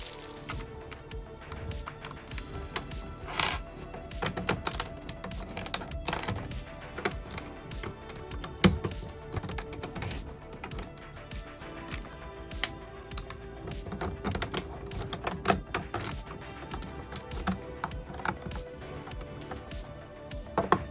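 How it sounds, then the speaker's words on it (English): LEGO bricks being assembled into a Star Wars tank give a busy, close run of small clicks, taps and rattles of plastic pieces, irregular and continuous throughout, with no talk. "let's cue some building noises now"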